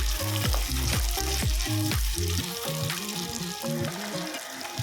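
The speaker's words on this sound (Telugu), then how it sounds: "నేను టమాటా వేస్తున్నా ఒక రెండు మూడు టమాటాలు చిన్న టమాటాలు చిన్న టమాటాలు వేసి ఇట్లా కలుపుకోవాలి" Two or three small tomatoes fry in hot oil while being stirred. A close, steady sizzle runs under rhythmic scraping and knocking strokes, with no voices.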